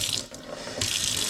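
Tap water runs steadily into a sink to rinse freshly foraged abalone (ormer), a soft continuous gush close by that briefly eases, then surges stronger.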